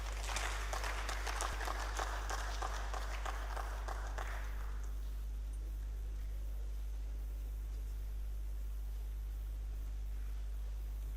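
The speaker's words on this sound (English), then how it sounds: "A warm round of applause for him," Audience applause at a renewable energy hybrid conference, a burst of clapping for roughly four seconds that quickly dies away, leaving a steady low electrical hum alone.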